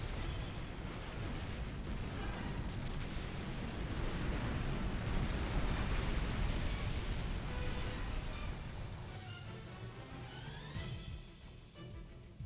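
Dense, rumbling gunfire and blasts from a Final Fantasy X-2 HD boss fight, continuous and loud for most of the stretch, thinning out toward the end.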